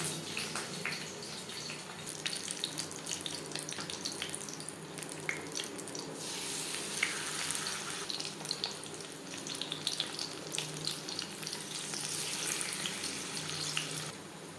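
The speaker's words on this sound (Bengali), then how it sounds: "হাই ফ্লেমে তেল গরম করে নিয়েছি ভাজবো মিডিয়াম ফ্লেমে" Battered chicken satay frying in hot oil over a medium flame, a steady dense hiss and crackle of bubbling oil running throughout at moderate level, with no talking.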